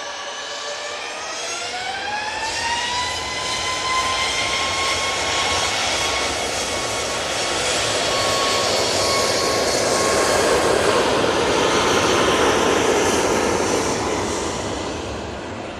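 A Ryanair Boeing 737 MAX 8 takes off from Manchester Airport for Prague, its jet engines spooling up with a rising whine and then settling into a loud, sustained roar that swells gradually, with no voices.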